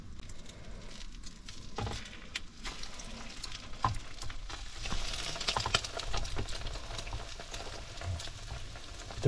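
Eggs frying in oil in a pan inside a caravan, a soft steady sizzle with crackling pops and spatters, fairly faint and close, with no voices.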